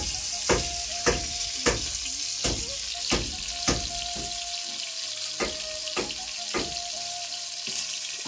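Potatoes fry in oil on a wood-fired clay stove, giving a steady close sizzle broken by a regular series of sharp scraping or stirring knocks, roughly one every half second.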